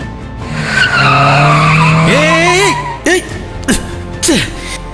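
A car skids to a halt with a long, loud tire squeal and engine rumble, followed by a short burst of sharp screeches and squeaks, with no talk over it.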